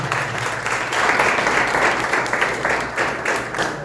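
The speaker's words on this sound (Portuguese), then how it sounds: "Receba a pastora Naí com palmas em nome de Jesus." A church congregation claps to welcome a woman pastor during a worship service, a steady, loud burst of many hands applauding with a faint rhythmic pulse.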